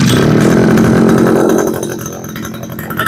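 Used Japanese gasoline grass trimmer with a 40cc engine running close by at a loud, buzzing high idle, then the revs drop away and it settles into a quieter putter.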